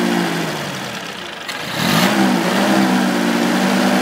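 The engine of a 1965 Kohler electric plant generator runs loudly and steadily under load testing. Its drone dips slightly and then rises back to a steady hum.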